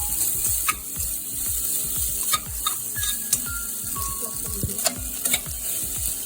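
Rice is added and tossed in a hot frying pan with broccoli and black pepper, a close sizzle with repeated scraping and rattling strokes at an irregular rhythm.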